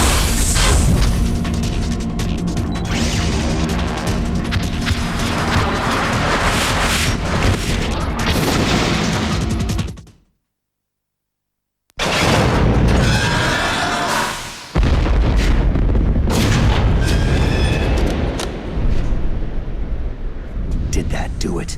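Gatling gun firing in Metal Gear Solid: The Twin Snakes, dense booming bursts with heavy rumbling impacts and crackling, loud throughout, broken by a couple of seconds of silence before the barrage resumes.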